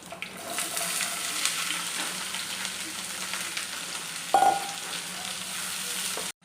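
Chopped beans and onion stir-fry in a hot pan with curry leaves, a steady close sizzle with a brief clatter partway through before the sound cuts off.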